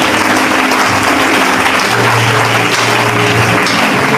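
A church congregation applauds the Lord during a prayer and deliverance service, a loud, steady wash of clapping that fills the whole stretch with a faint tonal hum underneath.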